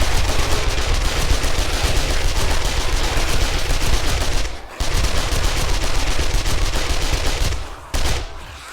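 Nonstop automatic gunfire during Horde Night in 7 Days to Die, a loud, dense, rapid rattle of shots with two brief breaks, close and continuous throughout.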